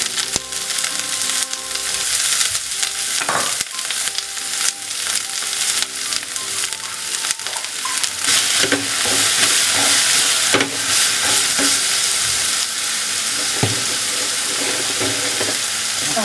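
Sliced onions drop into hot oil with popped mustard seeds for a duck roast and sizzle loudly and continuously, with stirring scrapes and clinks of the spatula against the pan.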